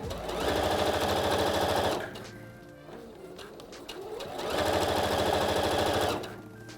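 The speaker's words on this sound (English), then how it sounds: "pushing the fabric in as I sew it" A sewing machine stitching fabric for trousers, two long bursts of fast, even motor whirring and needle rattle separated by a short pause, close and clear.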